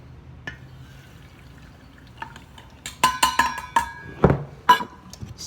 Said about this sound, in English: Pour our sugar in there